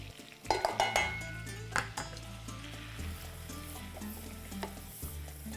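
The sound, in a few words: flour and butter roux cooking in a pan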